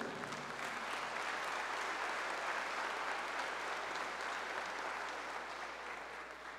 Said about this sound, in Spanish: Lo recibimos con gran aplauso